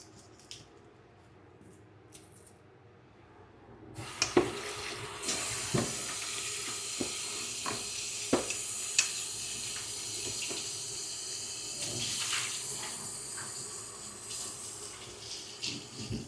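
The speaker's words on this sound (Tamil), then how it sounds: "எல்லாத்தையும் கழுவிட்டு வெட்ட போகிறோம்." Running tap water pours into a sink while vegetables for a vegetable kuzhambu are washed, with scattered knocks and splashes of handling after a quiet opening.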